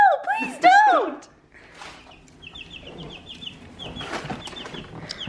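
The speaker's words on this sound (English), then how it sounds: "I didn't know chickens could fly." Chickens cluck and squawk close by, with a loud burst of calls at the start followed by softer clucks and rustling as people talk excitedly nearby.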